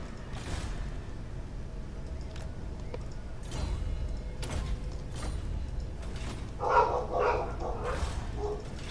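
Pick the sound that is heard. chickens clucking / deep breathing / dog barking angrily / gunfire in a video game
dog barking angrily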